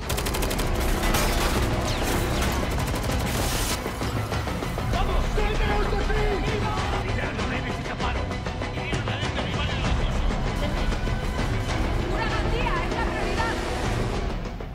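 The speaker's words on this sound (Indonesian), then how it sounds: "Lisbon dan kelompoknya terus bergerak mencoba menghentikan Arturo dan gubernur bank yang terus menembak" Dense gunfire from a Money Heist season 5 bank shootout rattles in sustained bursts under a loud, busy soundtrack mix.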